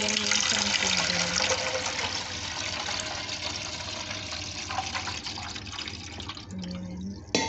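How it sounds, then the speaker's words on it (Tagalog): Water poured from a one-liter container into a home coffee maker's reservoir before descaling, a steady broadband splashing and trickling that runs the full length, with brief faint voices near the start and end. "So, lagyan mo lang siya ng tubig."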